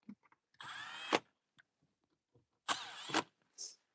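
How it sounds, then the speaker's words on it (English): Power tool driving Torx screws into a C10 pickup with an LS1 swap, heard as two loud, close whirring bursts of about half a second each, followed by a brief third spurt and small clicks between. "So I'm going to tighten these down."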